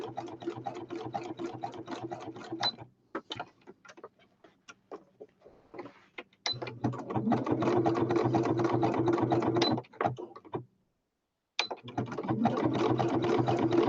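Sewing machine running a small zigzag stitch on fabric for a machine cover, a close rapid mechanical chatter in bursts with short pauses between runs, no talking.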